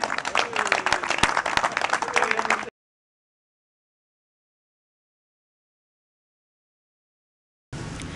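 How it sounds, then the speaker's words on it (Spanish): Applause from the audience at a golf tournament, honoring the players: about three seconds of steady clapping, then a long silent gap before a brief burst of sound resumes at the end. "Un aplauso a los jugadores."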